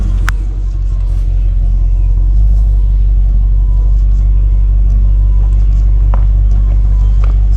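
A Range Rover L322's engine runs steadily after starting, a deep, continuous low rumble close by, with occasional faint clicks over the top.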